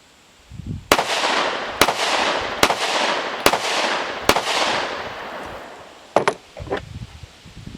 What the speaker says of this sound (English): I'm going to shoot 5 more rounds of each one